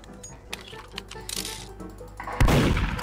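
Gunfire in the Roblox game Murder Mystery 2, a series of sharp shots over a steady low hum, ending in a loud burst near the close.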